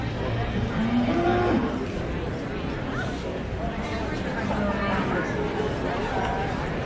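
Cattle moo repeatedly at a county fair 4-H and FFA beef show, with the calls mid-distance over steady crowd chatter and a public-address voice talking through the arena.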